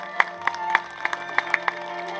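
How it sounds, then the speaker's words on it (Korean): A seated audience at a livestock cooperative feed factory opening ceremony gives a short, sparse round of applause, scattered individual claps over a quiet hall hum. "여러분 다시 한번 축하의 박수 주시기 바랍니다"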